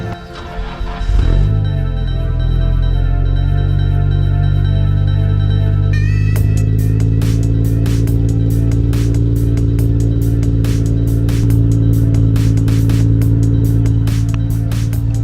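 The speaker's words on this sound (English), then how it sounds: "that is a cold start on the GTR and it's not loud at all" A Nissan R32 GTR fitted with a Tomei exhaust cold starts with a short crank, then settles into a steady, deep, fairly loud idle, heard up close and alone.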